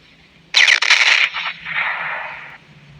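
Bursts of crackling explosions from bombs dropped by a plane in a mobile video game, a loud double blast followed by rumbling, fading booms, with no talking.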